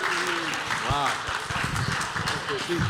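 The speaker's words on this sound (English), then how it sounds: "Clap it one more time for True Poet." Live audience applause for the poet True Poet at a Wednesday social event, broad clapping that fills the whole stretch, with a voice talking over it and cheering.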